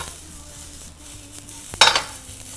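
Thinly julienned carrots stir-fried in a pan with a little oil and salt, a soft steady sizzle with faint utensil scrapes, then a sharp metallic clink near the end, with no talk.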